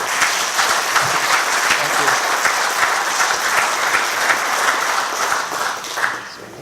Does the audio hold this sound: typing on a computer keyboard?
no